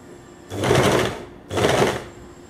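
A sewing machine stitching piping onto a kameez neck runs in two short bursts of about a second each, a loud close whirring hum with a brief pause between.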